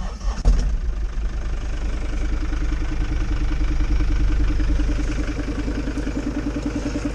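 An engine cranks and catches with a sharp burst, then settles into a steady, even idle with a rhythmic mid-pitched chug, running alone and close up as it warms.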